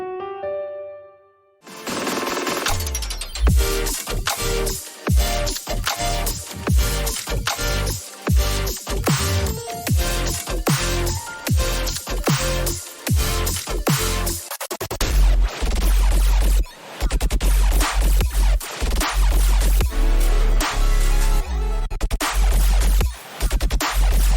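A dense, loud electronic track plays a repeating melodic phrase built on the 2nd, 3rd and 7th degrees of a minor scale over pounding beats, after a brief soft opening of a few notes.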